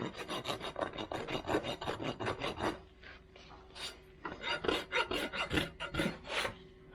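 Rasp filing a horse's hoof during barefoot trimming, quick rhythmic rasping strokes in a fast run, a short pause, then another burst of strokes, close and clear.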